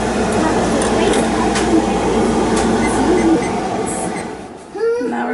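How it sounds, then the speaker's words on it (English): A loud, steady broadband roar like a fan running close by, continuous for several seconds before dropping off near the end, with faint voices underneath. "that was a lot of noise. That was a fan."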